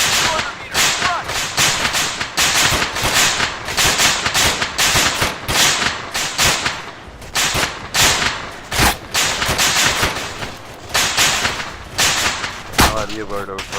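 Gunfire in the military video game Arma 3 cracks in rapid, dense bursts of close shots that continue almost without pause, with voices talking over the shooting.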